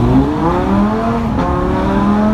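Lamborghini Huracan engine revving loud and close, a strong rising and falling engine note with layered harmonics that holds steady and climbs again near the end.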